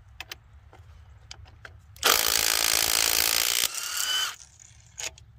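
A fully charged Snap-on 5.0 battery impact wrench in power mode 3 hammers for about two seconds in a loud, close, rattling burst, after scattered soft clicks of the ratchet and socket.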